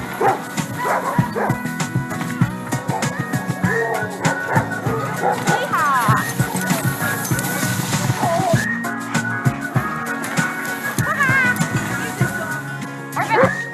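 Sled dogs at the Beargrease race bark, yip and whine in an excited, continuous chorus close by, with people talking among them.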